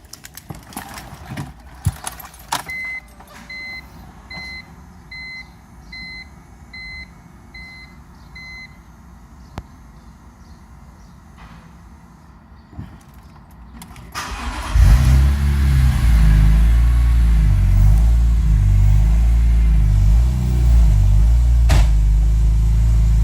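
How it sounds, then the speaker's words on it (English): A 2006 BMW M3 cranks and fires up about halfway through, then settles into a loud, steady idle with engine revving, following a stretch of quieter ambient noise. "let's go ahead and start the car"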